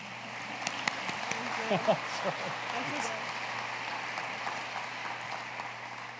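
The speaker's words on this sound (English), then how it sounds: "So let's all give a round of applause." Applause from a crowd, a steady patter of clapping with a few louder claps near the start, with some voices mixed in.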